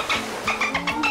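A dolphin calling from the water at the beach, a series of short squeaky chirps and whistles, about five bursts in quick succession, close and fairly loud with no talk.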